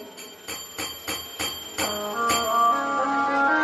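Temple bell at a live religious discourse in Vikas Nagar, Teddy Bagiya, struck about seven times in a steady rhythm, each ring bright and ringing out, then the tones blurring into a sustained, layered hum.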